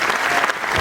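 Audience clapping at an educational film festival speech, a dense burst of many hands applauding together in a hall.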